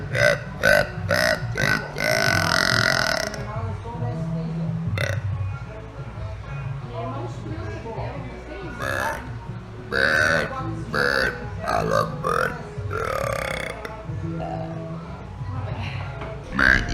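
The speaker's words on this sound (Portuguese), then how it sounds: "Você pode fazer um monte de pequenos arrotos." A woman lets out a string of loud, close burps, some short and clipped and others long and drawn out, with pauses between and a few brief spoken bits mixed in.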